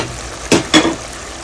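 Prawns drop into a pan of fried spice paste, giving two sharp, loud sizzling bursts close by that quickly settle into a softer frying hiss.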